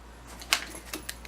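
A set of house keys jangles and clinks in a few sharp, bright metallic bursts, close and fairly quiet, with no talking.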